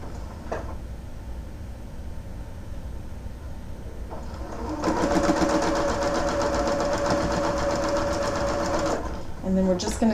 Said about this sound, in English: chain sew everything